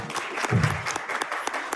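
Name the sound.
applause for a lottery winner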